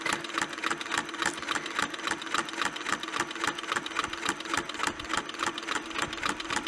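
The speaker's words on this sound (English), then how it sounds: "I find this to be my favorite machine for free motion and ruler work." Sewing machine running steadily during free motion quilting and ruler work, a close, continuous rapid needle chatter with even rhythmic pulses throughout, no talking.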